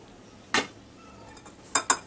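A spoon clinks against a bowl while mixing a Spanish omelette mixture of egg with roasted onion, potato and cabbage: one sharp clink, a pause, then two quick clinks, close and fairly quiet.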